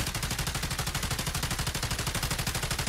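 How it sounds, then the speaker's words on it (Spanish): Assault rifle fire in Call of Duty Mobile during a recoil test, heard as one continuous, loud, rapid automatic burst with evenly spaced shots for about three seconds. "voy solamente a tocar el botón de disparo sin mover la pantalla"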